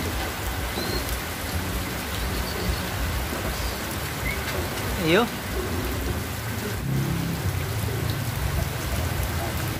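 Steady rain pours down with a constant hiss and patter, a distant rumble beneath, and a brief voice sounds once midway.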